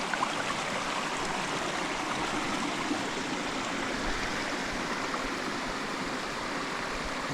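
A stream flows steadily near the Laurel Falls walkway, a continuous broad rushing wash of water that stays even and unbroken, with no voices over it.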